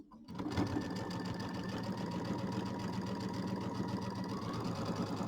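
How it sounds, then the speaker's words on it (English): A sewing machine stitches a seam on a mini quilt, starting after a short quiet moment and then running steadily with a fast, even mechanical whir and needle chatter, close and alone. "drop my needle and tie off on the edge here. Might need to take one more stitch in, and then we're going to sew up this side."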